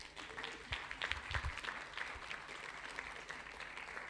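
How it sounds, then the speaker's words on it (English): An audience at a policy workshop claps, a soft, fairly distant patter of scattered hands lasting a few seconds in a large room. "I think they deserve a round of applause"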